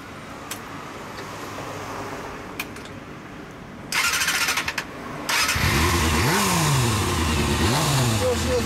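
A Suzuki GSX250FX 250cc naked motorcycle engine cranks and catches, then idles with a few revs, close and loud, after quieter background noise and brief bursts of a starter; voices talk nearby.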